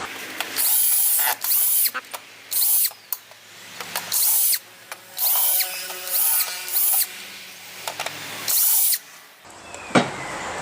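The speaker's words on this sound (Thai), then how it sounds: "แล้วก็ถอดน็อต4ตัวตรงนี้" Screws being unscrewed from the underside of an upturned floor fan's base, a series of short close-up bursts of whirring, ratcheting tool sound separated by brief pauses, with no talk.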